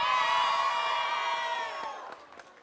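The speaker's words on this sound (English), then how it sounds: "That was a very loud cheer." A loud crowd cheer from children and teams at a LEGO robotics championship, a sustained chorus of shouting and whooping that fades out over its last second with a few scattered claps.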